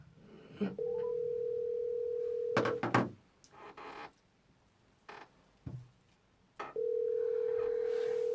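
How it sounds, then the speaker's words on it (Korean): A telephone dial tone sounds while a call is placed on a radio show, a steady hum broken by handset clicks and clunks before the tone returns and holds. "전화를 걸어보도록 하겠습니다"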